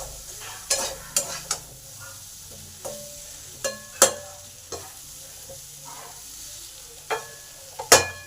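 Pumpkin, potato and pointed gourd frying in a pan while being stirred, with a steady low sizzle broken by repeated sharp scraping clatters of the spatula against the pan, close and moderately loud, no talking.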